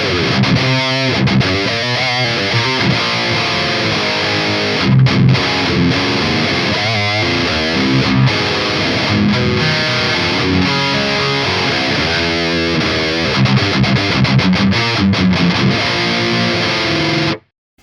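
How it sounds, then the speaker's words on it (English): An electric guitar plays riffs and chords through a Brunetti tube amp's heavy distortion, loud and saturated, ending abruptly. "This is a typical tube distortion"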